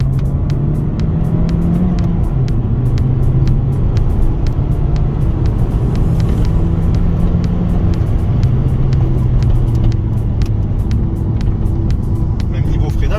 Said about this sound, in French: Accélération.